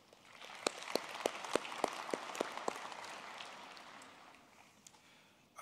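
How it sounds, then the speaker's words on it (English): Scattered, faint claps that soon settle into a soft patter of applause from a distant audience at a University of Pretoria engineering graduation ceremony. "Let's give him another round of applause."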